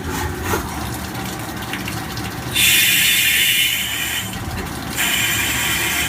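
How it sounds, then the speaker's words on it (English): A drill bit screams while cutting metal pen stock such as aluminum, brass or copper, two loud bursts of high-pitched whine rising over a steady machine hiss and rumble. "Don't you hear that drill bit screaming?"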